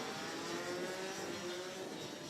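Racing kart engines rev together at the start of a kart race at Kerpen, a distant, steady buzzing whine with a rising pitch under the crowd-like ambience.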